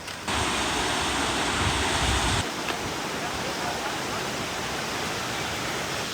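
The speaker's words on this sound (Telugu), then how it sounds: "water falls చూపిస్తాపా" A waterfall in Nuwara Eliya, Sri Lanka: a steady roaring wash of falling water, loud and continuous, with a brief brighter burst of noise at the start before it settles.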